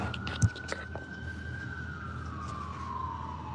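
Ambulance siren wailing in the distance on a holiday night, a single faint, steady tone sliding slowly downward, with a couple of brief sharp firework pops early on and no talking.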